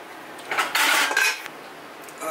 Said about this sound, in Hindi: आराम से डाल देंगे क्योंकि बर्तन बहुत गर्म है